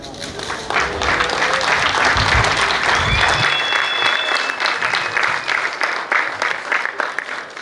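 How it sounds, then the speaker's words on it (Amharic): A crowd at an honoring ceremony for veteran artist Kiros Hailesilassie breaks into dense, loud, sustained applause, with a brief whistle cutting through and a voice faintly underneath. "ጭብጨባ ያስፈልጋል።"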